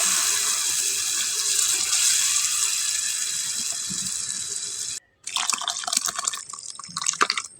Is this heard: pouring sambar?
yes